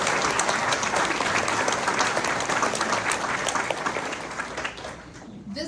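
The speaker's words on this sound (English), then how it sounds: "That deserves a little clap." Sustained audience applause at a school board of education meeting, dense clapping from a crowd that slowly thins toward the end before a voice resumes.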